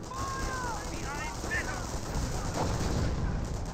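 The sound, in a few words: gunfire in Company of Heroes video game battle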